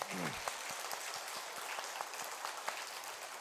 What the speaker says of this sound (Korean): 실제로 우리 하나님께 영광의 박수를 돌리겠습니다.